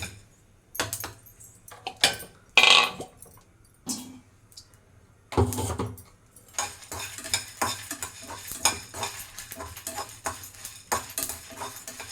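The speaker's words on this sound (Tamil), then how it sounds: "கொஞ்சம் வாசனை வர வரைக்கும் வறுத்து, ரொம்ப தீய விடக்கூடாது." Whole spices dry-roasting in a kadai for a biryani masala, with repeated scraping and stirring strokes, a few sharper clinks of the spoon, and a light sizzle, close and fairly loud with no talk.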